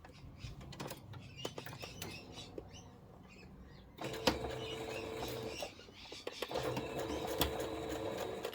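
Sewing machine stitching a row of quilt blocks together, quiet intermittent needle ticks first, then a steadier mechanical whir after a clunk, close up with brief pauses and no talking.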